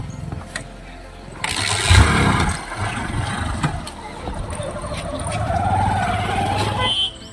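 A motorbike engine cranks and catches about two seconds in, then idles and revs steadily nearby while people talk over it.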